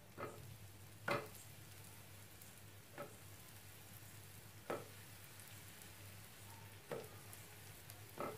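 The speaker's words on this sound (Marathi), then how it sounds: "आता हे ब्रेड मी भाजून घेणार आहे ह्यामध्ये" Bread slices toasting in a hot pan give a soft, steady low sizzle, with a few brief clicks and scrapes of handling spaced through it; nobody speaks.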